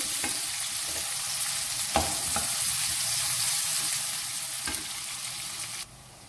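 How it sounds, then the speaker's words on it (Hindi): Chopped onion sautéing in half a cup of olive oil over a low flame, a steady close sizzle with a few soft stirring clicks, for baingan bharta. "अब इसके अंदर मैं ये चॉप किया हुआ एक प्याज डालूंगी। सौते करेंगे इसको लो फ्लेम पे।"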